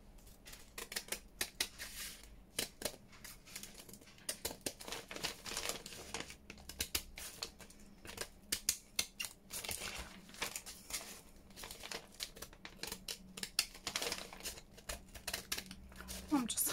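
Paper envelope being cut and crinkled while a junk journal cover is made, with dense, irregular snipping and crumpling right up close, moderately loud and running throughout.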